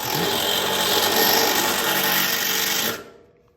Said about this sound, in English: That's where we'll drill our hole.